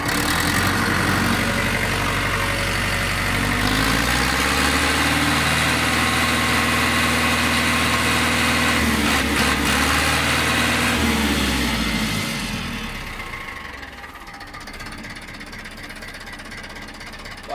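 A 1973 C-355 tractor engine runs steadily, its low rumble rising as it is given some throttle for several seconds, then dropping back to a quieter idle near the end; close and loud, with no talking.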